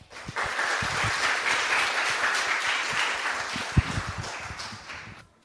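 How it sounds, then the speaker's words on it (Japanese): A church congregation claps to welcome a visiting pastor to the podium, a warm, even wash of applause from many hands that swells quickly and carries on for several seconds before stopping abruptly. "拍手を持ってお迎えください。"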